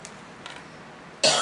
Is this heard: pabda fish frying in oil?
no